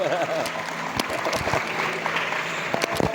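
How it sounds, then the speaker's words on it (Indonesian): Audience at an Islamic New Year gathering in a pesantren claps for a man, scattered hand claps over a busy room with murmuring voices and background sound mixed in. "Tepuk tangan buat Bapak ini."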